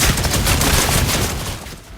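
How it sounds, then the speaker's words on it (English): Skull Crusher chain gun in Doom: The Dark Ages firing demon skulls, a dense, loud, continuous rapid burst of impacts and blasts that carries steadily and fades slightly toward the end. "The new chain gun like Skull Crusher, for example, spits demon skulls at enemies"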